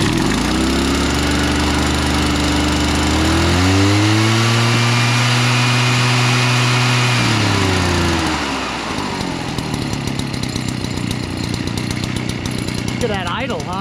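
Echo PB-603 58cc gas backpack leaf blower engine idling loud and close, a steady low harmonic drone that rises briefly in the middle before settling back into a rougher, clattering run.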